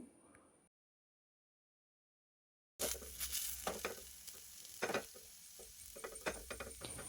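Banana appa kajjaya, sweet fritters made for the Ganesh festival, sizzle and fry in a pan, with a soft steady crackle of oil and occasional stirring sounds after a brief quiet pause.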